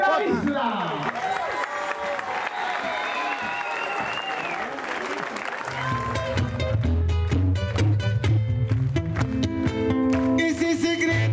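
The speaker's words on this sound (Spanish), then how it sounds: "les damos un fuerte aplauso a los embajadores de la isla" Audience applause at a bolero and waltz concert, loud and dense at first, then music takes over with a strong bass line and sharp rhythmic hits.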